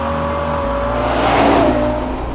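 The 6.5 litre naturally aspirated V12 of a Ferrari Purosangue SUV, borrowed from the 812 Superfast, revs loudly and close, its tone climbing and swelling midway before easing back.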